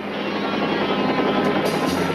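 A helicopter drones steadily and loudly overhead, its rotor and engine roar filling the scene without a break and no voices over it.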